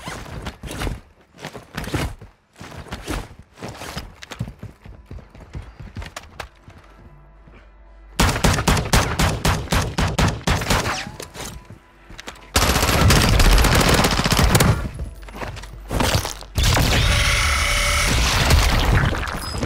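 Video-game gunfire in a Plunder match: dense bursts of rapid automatic shots, near and loud, coming in volleys that grow heavier and more sustained toward the end, with no talking.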